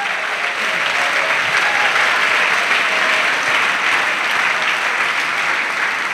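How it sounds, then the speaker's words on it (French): A church congregation applauds in acclamation of Jesus, a loud, steady wash of many hands clapping together that holds evenly throughout without a break. "Acclamation à Jésus."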